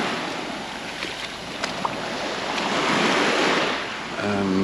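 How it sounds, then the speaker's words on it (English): Small waves washing against the shore at Costa d'en Blanes, Mallorca, with catamarans moored offshore; a steady, moderate surf wash with light wind, swelling slightly midway. "There's a few waves as well. Nothing big, but waves against the shore."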